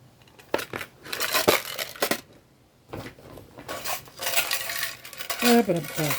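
Metal screws rattle and clink inside a tin, coming in uneven bursts of jangling shakes and sharp metallic taps separated by short pauses, close and fairly loud.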